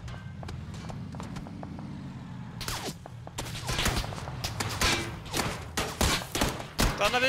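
Gunfire in a video game: a low engine hum gives way to rapid bursts of sharp shots and crackling impacts, loud and dense, with no talk over it.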